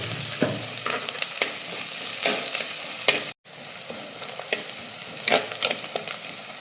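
Ginger, garlic and green chillies fry in a pan, a steady close sizzle broken by scraping stirs and a brief drop to silence midway, with no talk.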